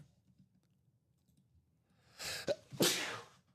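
A sneeze bursts out after quiet, a sharp intake followed by a loud, explosive sneeze, close and alone.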